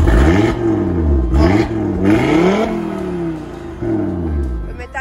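A car engine revs hard in repeated bursts, rising and falling pitch sweeps close to the microphone, loud and aggressive with brief pauses between pulls.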